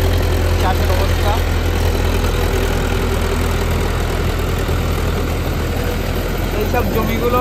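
An Indofarm 3055Di two-wheel-drive tractor runs a rotavator through deep waterlogged mud, its engine a constant, loud low rumble with a steady churning layer across the whole stretch.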